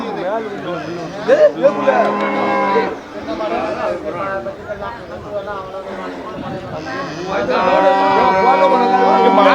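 Dairy cattle moo loudly and repeatedly close by at the Melapalayam livestock market, with people chattering in the background amid a busy crowded scene.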